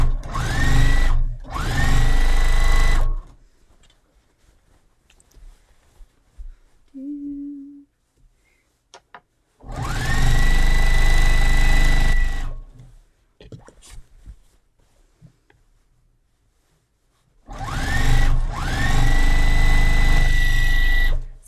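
A sewing machine stitches binding onto a Christmas table runner in three loud, sustained runs separated by quiet pauses, with small handling clicks and a soft voice in the gaps.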